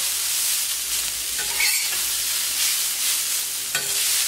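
Vegetables stirred rapidly with oil on a hot plancha griddle: a continuous loud sizzle broken by scraping strokes and a sharp clack near the end, without any speech.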